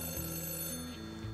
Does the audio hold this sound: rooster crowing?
no